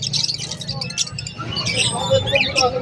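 Lutino lacewing pet birds squawk and chirp in a busy pet market, bright bird calls scattered over a steady murmur of crowd noise and nearby chatter.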